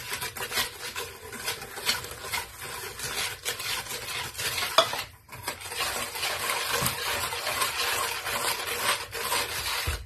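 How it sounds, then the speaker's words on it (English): Eggs being stirred and whisked in a bowl with orange peel and vanilla for Greek Easter bread (tsoureki), a steady scraping, sloshing rhythm that runs close and fairly loud almost without pause. "and I'm going to mix it."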